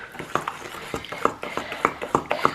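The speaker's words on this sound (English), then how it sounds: "So you want to mix all of this together really well. You can use a whisk or you can just use a spoon." A spoon clinks rhythmically against a bowl while mixing liquid ingredients for green tomato bread, giving repeated close, sharp taps about every third of a second.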